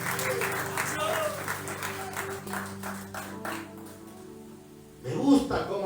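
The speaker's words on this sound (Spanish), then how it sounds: "Dale fuertes palmas al que vive." A church congregation claps during a sermon. Steady applause runs under a preacher's amplified voice, and a louder burst of clapping comes near the end.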